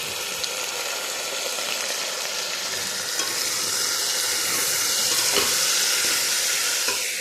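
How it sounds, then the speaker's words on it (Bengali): Potatoes fry in hot oil with salt and turmeric, a steady broadband sizzle holding evenly loud throughout with faint scraping stir movements and no voices. "একটুখানি আলুটাকে কষিয়ে নেব। দেব পরিমাণ মতো লবণ, পরিমাণ মতো হলুদ"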